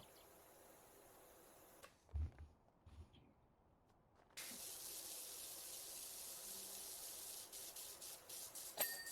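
A pressure washer in Powerwash Simulator 2 sprays in a steady, hissing rush that cuts in after a brief lull and keeps going at even strength, with short louder spurts near the end.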